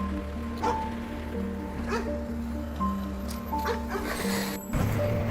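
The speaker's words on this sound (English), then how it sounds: "It barks, loud and desperate, trying to draw attention." A small Shiba Inu dog barks loudly and desperately in a raging snowstorm, with repeated sharp yelps over a steady bed of sustained music.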